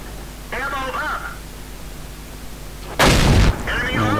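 A tank cannon fires once in World of Tanks: a single loud, sharp blast cuts through ongoing talk and briefly overwhelms it before the voice returns.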